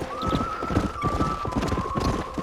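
A horse gallops in Red Dead Redemption on PC, with rapid, steady hoofbeats close up and loud, a whinny near the start, and a long tonal sound running through the clip.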